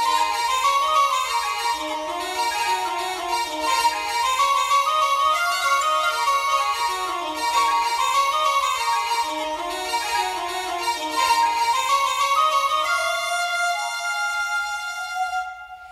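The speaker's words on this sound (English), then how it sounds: "the lead instrument here is going to be the high whistle doubled with the illan pipes" High whistle doubled with uilleann pipes playing a fast, ornamented lead melody in a Hollywood fantasy style, dense and continuous, ending on a held note, with no voices.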